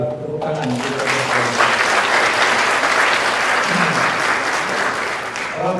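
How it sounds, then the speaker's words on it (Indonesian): Sustained audience applause at a welcoming speech by a faculty dean, steady and dense throughout, with a voice speaking over the opening moments. "Tepuk tangan"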